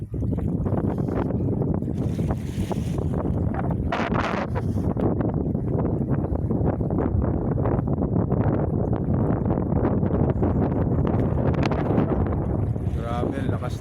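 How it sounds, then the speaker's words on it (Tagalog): Strong wind roars and buffets the microphone steadily at the seashore, a loud continuous rumble with gusty surges throughout. "Grabe ang lakas ng hangin guys."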